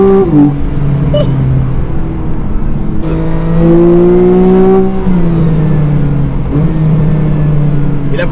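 A Porsche 991 Carrera with a 350 hp engine revs loudly and up close, its tone rising and falling through several pitch sweeps across about eight seconds of continuous engine noise.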